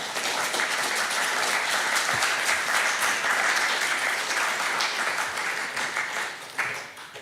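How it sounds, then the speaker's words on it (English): A church congregation at a Sunday service gives a round of applause after a musical performance, sustained close clapping from many hands that holds steady and then thins out near the end. "Can we just offer a round of applause for that?"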